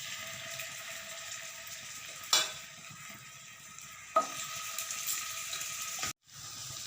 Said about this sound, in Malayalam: നമുക്കിനി ഇതിലേക്ക് ചിക്കൻ്റെ പീസ് ഓരോന്നായിട്ട് ഇട്ട് കൊടുക്കാം